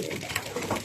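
Racing pigeons coo in a loft among young and old birds, soft and close, as a low, steady murmur through a short moment.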